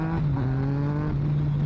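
A Yamaha MT-09 motorcycle engine running during a ride, a loud, steady droning growl with a strong low tone that holds throughout.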